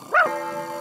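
A cartoon dog gives a single short, bright bark, close and clear, followed by a faint lingering tone in an animated Spanish-dubbed episode.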